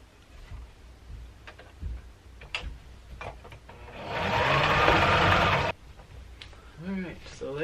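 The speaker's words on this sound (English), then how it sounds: "I am going to sew the ends of the elastic together." A sewing machine joins the cut ends of elastic for a swimming skirt, running in one steady whirring burst of about two seconds, loud and close, with quieter handling noises and a little speech around it.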